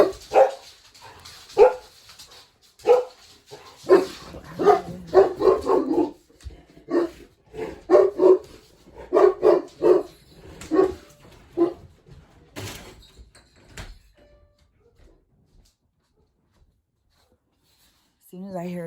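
Dogs barking outside in repeated clustered bursts over about fifteen seconds, moderately near, interleaved with a person talking indoors, then fading to near silence.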